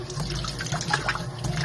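Water running steadily from a hose outdoors, a continuous splashing flow at close range with no talk.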